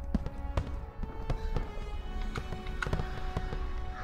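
A fireworks salute bursts in the World War II shooter Call of Duty WWII, a series of sharp cracks and pops scattered irregularly over a busy background.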